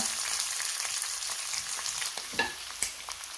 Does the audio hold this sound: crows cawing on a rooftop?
no